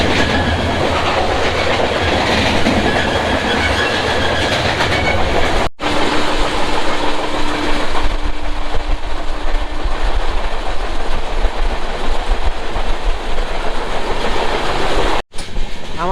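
Dhauli Express rolling out of Santragachi toward the next station, a loud, continuous onboard rumble of wheels and carriage with steady clickety-clack, two brief sharp dropouts, and no voices.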